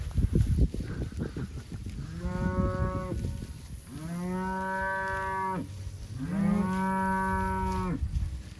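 Cows and calves in a tightly packed grazing mob on a Sericea lespedeza pasture, giving three long, loud, drawn-out moos one after another with rustling noise between them.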